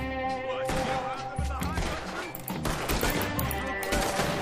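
Rapid bursts of gunfire in a video game firefight, loud crackling volleys and repeated shots over busy game sounds and music.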